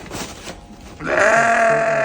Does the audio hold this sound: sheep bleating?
yes